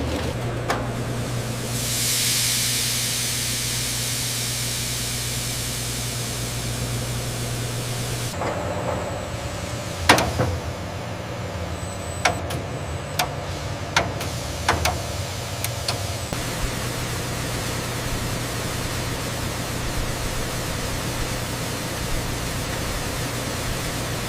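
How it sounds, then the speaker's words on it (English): A coffee roaster drum rotating while roasting beans gives a steady, loud rushing hiss throughout, with a cluster of sharp clicks and knocks in the middle stretch. "Inside the drum, the beans begin their transformation, a chaotic ballet driven by heat and the drum's rotation."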